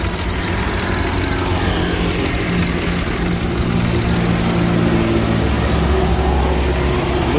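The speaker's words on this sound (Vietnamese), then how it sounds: "Khi phun điện tử, máy nổ khá là êm." A 2016 Hyundai i10 with a 1.0-litre petrol engine and electronic fuel injection runs steadily, a smooth, even engine drone with a faint high whine, close and constant throughout with no talk.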